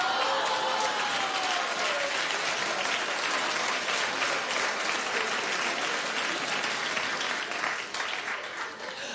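A studio audience at a celebrity lookalike talk show breaks into dense, steady clapping, loud and close, fading slightly at the end.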